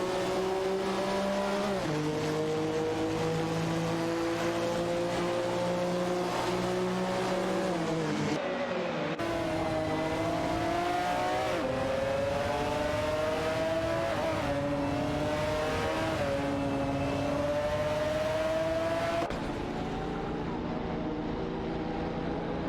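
Race cars in an AI racing game speed around a track with a continuous engine whine that climbs in pitch and drops at each gear change, steady and close throughout.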